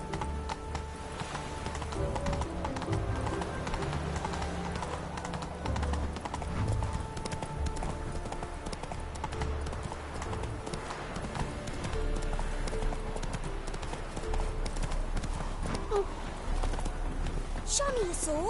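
A horse gallops in The Witcher 3, with rapid rhythmic clip-clop hoofbeats running steadily throughout at close range while characters talk over the sound.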